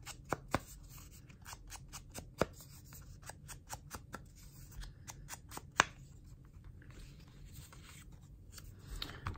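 Paper ticket being distressed by hand for sermon note journaling, with a run of sharp scraping and snipping strokes in irregular rhythm, close and fairly quiet with no talk.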